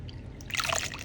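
Warm water pours and splashes over hair in a brief trickling burst, close and moderately loud, following a quieter stretch of faint running water.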